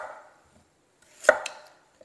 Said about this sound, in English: We get to chop all of these up and chuck them in the Thermomix.